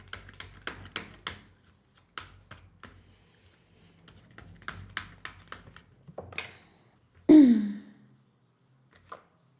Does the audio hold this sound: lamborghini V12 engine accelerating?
no